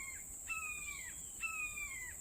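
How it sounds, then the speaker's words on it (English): Two piercing, descending screeches from a hawk ring out one after another, faint and distant over quiet outdoor background near an impact crater. "that's a hawk."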